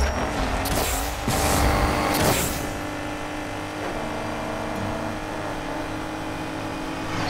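A Nissan R32 GTR fires its nitrous while drag racing in Need for Speed Payback, its engine surging with a couple of loud whooshing rushes early on before settling into a steady droning engine tone.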